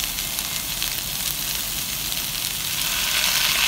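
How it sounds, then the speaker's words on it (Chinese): Garlic scapes being stir-fried in a hot wok give off a loud, even sizzle that holds steady for a few seconds with no talking. "我们加入这些蒜苔和这个进行炒热"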